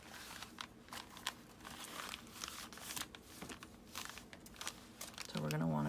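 A paper bag being cut to size by hand for faux leather craft, giving steady crinkling and crunching paper noise throughout, close and fairly loud, with a brief tonal rise at the end.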